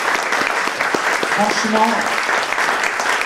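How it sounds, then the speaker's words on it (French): Audience applause for author Karim Akouche at a French-language café-bavard gathering, steady clapping throughout with a voice speaking briefly over it. "je vous demande d'applaudir Karim Akouche"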